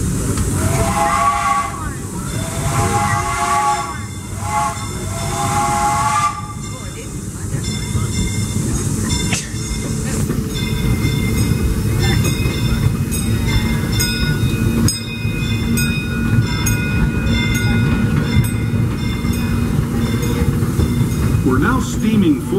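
Disneyland Railroad steam train Fred Gurley #3 rumbles and clatters steadily along the track, with a high whistle-like tone early on, heard from aboard a passenger car amid crowd noise and a spoken narration.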